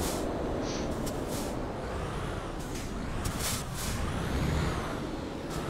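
A truck in Euro Truck Simulator 2, driving in Poland, brakes to a halt. A steady low engine rumble runs throughout, broken by several short hissing air-brake bursts.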